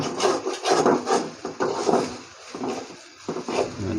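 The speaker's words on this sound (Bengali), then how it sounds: "এখন ভালোভাবে নেড়ে মিশিয়ে দিতে হবে" Spiced noodles are stirred and tossed in a pan with a spatula, a continuous scraping and rubbing in uneven strokes, close and fairly loud, with no talk.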